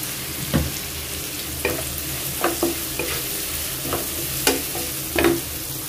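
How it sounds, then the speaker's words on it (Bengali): Onions sizzling in hot oil with cumin seeds, a steady close fry broken by several sharp stirring scrapes and clinks of a spatula in the pan. "তেল দিয়ে পরিমাণ মতো জিরা ফোড়ন দিয়ে দিছি, আর এখন পেঁয়াজ দিয়ে দিচ্ছি"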